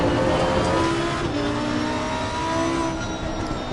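Race car engine in Assetto Corsa Competizione holding a loud, steady high-revving drone throughout, with pitch shifting slightly as it sustains, no gear change.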